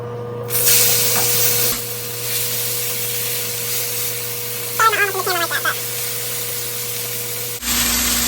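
Coconut-crusted salmon fillets laid flesh side down in hot vegetable oil, producing a bright, sustained spitting sizzle that starts abruptly and runs steadily, with a brief clatter of handling midway and a sharp cutoff near the end.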